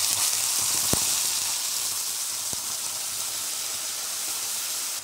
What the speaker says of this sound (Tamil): இப்போ இந்த நெய்யிலே பார்த்தீங்கன்னா நம்ம அரைச்சி வச்சுருக்கிற பீட்ரூட்டையும் சேர்த்துடலாம்